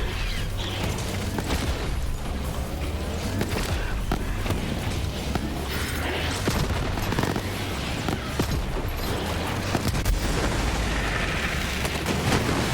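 Gunfire and explosions from a Moze build in the video game Borderlands 3 on Mayhem 10, a dense, continuous barrage of booms and blasts with mechanical clatter filling the whole stretch, loud and unbroken.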